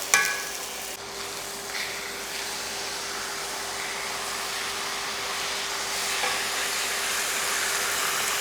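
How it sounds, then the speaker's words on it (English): Steaks fry in a pan over medium heat, giving a steady close sizzle and hiss that holds evenly throughout with a faint stirring clatter at the start and no talking. "the steaks are just cooking on a medium temperature"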